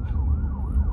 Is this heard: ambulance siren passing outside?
yes